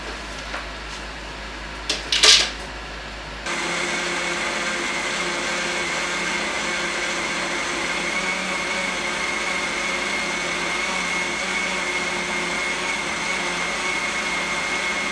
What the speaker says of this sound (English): blend it until the milk starts to come out